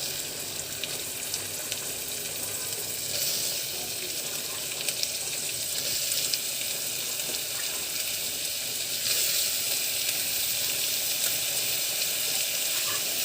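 Chopped shallots and onions sizzle in hot oil with curry leaves for a homestyle Kerala duck curry, a steady, dense hiss that runs evenly throughout with no talk.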